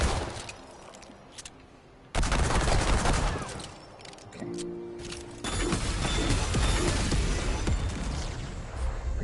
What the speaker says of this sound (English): Let's see how fast I can shoot off these.